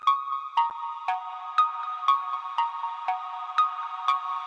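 Diva synth arpeggiator with added processing, a bright plucked pattern repeating evenly about twice per second, clean and alone.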